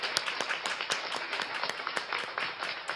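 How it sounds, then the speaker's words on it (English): A crowd at a beach festival claps for young ladies after a memorial performance, a dense, fairly loud patter with a few sharper individual claps standing out. "I just want to clap it up for the young ladies that pressed."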